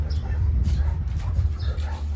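A dog gives short whimpering yips and barks at close range over a rumbling low background, a few brief bursts across two seconds.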